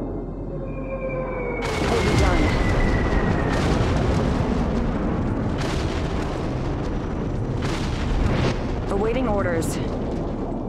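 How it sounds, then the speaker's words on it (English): A carpet bomb airstrike in Cepheus Protocol, a strategy game: a long rolling chain of heavy explosions erupts and rumbles on for several seconds, loud and dense, with a brief radio voice line and other game sounds over it. "Carpet bomb incoming."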